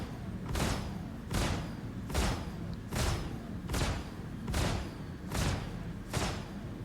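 Suckerpunch XL distortion guns in a space combat video game fire on ships in seven evenly spaced, heavy booming bursts about three quarters of a second apart over a steady low rumble.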